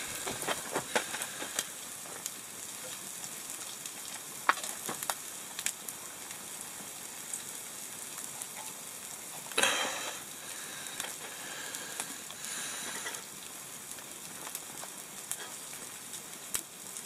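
Bacon frying in a pan, giving a soft, steady sizzle with scattered faint crackles and pops throughout, no voices over it.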